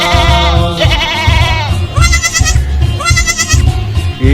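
A goat bleats loudly several times in quick succession, with wavering, nasal cries over a rhythmic low background beat.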